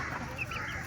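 A black Sonali hen in a small shed gives a brief, soft cluck over low background murmur, close and short.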